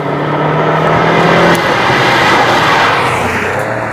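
A four-wheel-drive Lamborghini supercar at a driving experience event, its engine roaring loud and close in a sustained, rising drone with a brief pitch change partway through.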